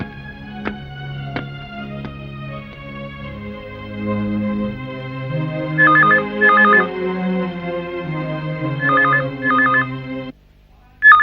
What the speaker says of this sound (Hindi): इस वक्त किसका फोन होगा?